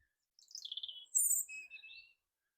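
A small bird near Dundrum Castle in County Down, Ireland gives a string of quick high chirps and then a few brighter, longer calls, faint and isolated against near silence.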